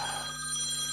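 A mobile phone rings with an incoming call, a steady electronic ringtone of sustained bright tones heard alone for about a second at fairly loud level.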